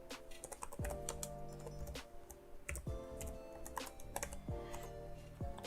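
Keys clatter on a computer keyboard as a Linux upgrade command is entered for Kali Linux running on Windows 10, a steady run of close, crisp taps with brief pauses between bursts.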